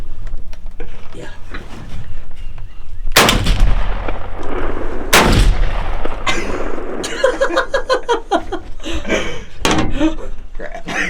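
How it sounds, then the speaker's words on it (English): Two loud shotgun blasts a couple of seconds apart ring out during a turkey hunt from a blind in Missouri, each with a sharp crack and rolling echo, with rustling and voices talking around them. "I'm gonna have to shoot him again"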